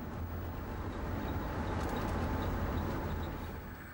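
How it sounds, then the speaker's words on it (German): A class 143 electric locomotive hauls its train up the steep, curving Höllentalbahn, a loud steady rumble of wheels and motors with a continuous close roar throughout. "Kurve für Kurve und Höhenmeter für Höhenmeter erklimmt der Zug."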